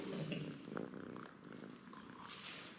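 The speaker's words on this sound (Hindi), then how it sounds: "ये देखें जी, क्या बात है, खूबसूरत बिल्ली।" A cat purrs close up in a soft, continuous rumbling drone with slight pulsing, quiet and alone.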